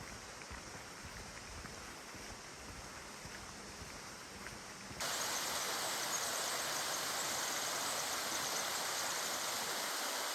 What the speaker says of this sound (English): I'm loving this beautiful little natural waterfall here on the trail as we continue to hike along.